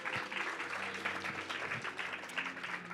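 Faint, steady audience applause welcomes alumni at a fashion business event, a continuous wash of clapping heard from a distance with a low background hum.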